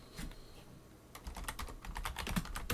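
Keys clatter on a computer keyboard while a text prompt is typed, a quick irregular patter of close, crisp taps that thickens into a steady burst in the second half, with no voices.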